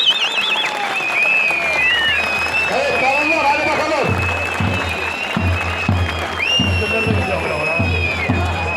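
A large crowd at a Turkish wrestling event claps and cheers steadily throughout, loud and continuous, with a rhythmic thumping and a high whistle-like tone on top.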